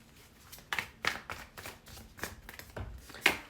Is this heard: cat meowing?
no